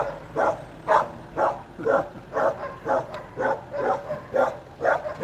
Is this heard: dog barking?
yes